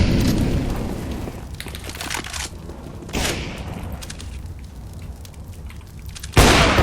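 Gunfire in the game CS:GO: bursts of shots crack and boom in quick succession at the start and again around the middle, with a sharp loud blast near the end and lighter scattered noise between.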